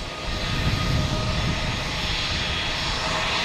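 Jet airliner engines roar steadily at Logan Airport in Boston, a loud, continuous broadband rumble and hiss held throughout, with no talk.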